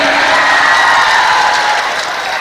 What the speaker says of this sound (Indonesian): Yang keras, tepuk tangannya yang keras.